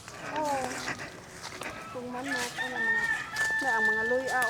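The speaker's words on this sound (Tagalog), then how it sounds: "Daghang kay manok guys." Chickens clucking and a rooster crowing repeatedly on a farm in Cebu, several close crows in a row, with people talking underneath.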